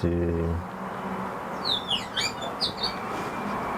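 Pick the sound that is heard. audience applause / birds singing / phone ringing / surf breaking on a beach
birds singing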